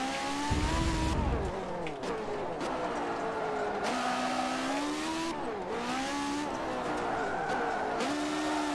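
A race car engine in a racing video game drones steadily and loudly throughout, its pitch rising and falling through repeated gear shifts, with a brief low thump near the start.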